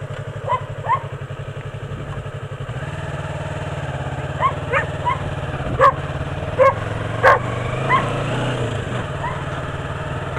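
Several dogs bark in scattered bursts at a moderate distance over the steady drone of an idling engine.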